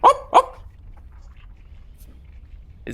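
Two quick, sharp barks voiced by a person imitating a dog during a tabletop role-playing game session, followed by near silence and a short breathy sound at the end.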